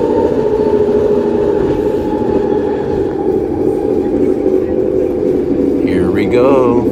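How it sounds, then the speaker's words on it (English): A train rolls steadily through a track switch onto the eastbound track, a loud continuous rumble with rail noise and a brief squeal near the end, while someone talks over it. "About to switch back to the originally scheduled program track, which is the Eastbound track."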